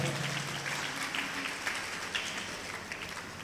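An audience at a Telugu religious gathering claps loudly in a dense, sustained burst of applause that continues evenly throughout, with some voices mixed in.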